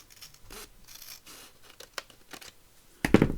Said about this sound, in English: Let's just cut that off.